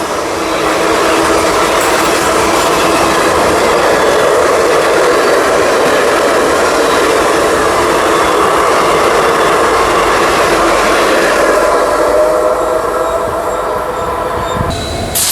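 The Narasapur Hubballi Amaravati Express passes in a loud, sustained roar of rolling wagons, with wheel squeal and rhythmic clatter, heard from close by.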